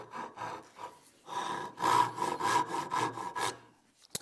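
A hand saw cuts half-blind dovetails in wood with a series of rhythmic rasping push-and-pull strokes, close and crisp, building into quicker repeated strokes before stopping.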